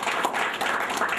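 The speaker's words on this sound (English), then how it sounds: "Please a round of applause for them." A room of people clapping for workshop participants at an entrepreneurship development training, a short dense burst of applause heard fairly close and loud.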